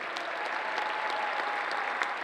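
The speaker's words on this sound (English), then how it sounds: "Let's give them a round of applause." Steady crowd applause fills a cosplay competition hall, a continuous even wash of clapping from a large audience for the whole short stretch.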